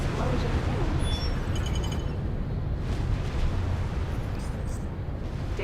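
A big explosion in the space game X4: Foundations, a loud sustained rumbling roar with crackling bursts that fill the whole span, with a voice talking over it.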